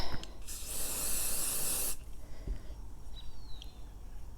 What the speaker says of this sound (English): let me spray this with the Apple Guard